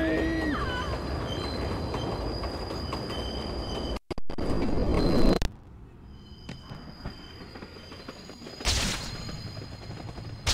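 A train roars along in the Spider-Man 2 video game, a loud mechanical rumble with rattling bursts, a sudden break into quieter rumble, then a brief sharp surge.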